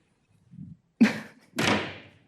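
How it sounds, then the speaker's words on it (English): A door closed in a lecture room before a microbiome research talk: a soft bump, then a sharp close slam followed by a second heavy thud as it latches shut. "Maybe I close the door here."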